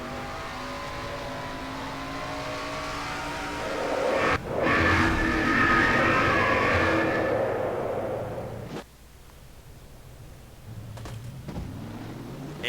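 A NASCAR-style stock car from a racing video game, slowly dying after being turned at 100 miles an hour, roars steadily and loudly, rising to a strained revving peak before dropping to a lower, rougher idle with brief bursts.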